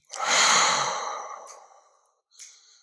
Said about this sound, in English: just everybody quickly exhale